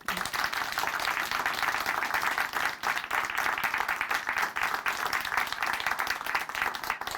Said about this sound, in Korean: 자매님께 다시 한번 큰 박수 보내드릴게요